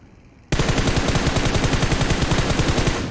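Rapid automatic gunfire in the mobile battle-royale game PUBG Mobile bursts in suddenly after a quiet moment and rattles on loud and continuous, a steady fast stream of shots close by.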